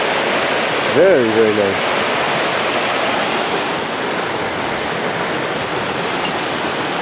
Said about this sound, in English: Water tumbling all about.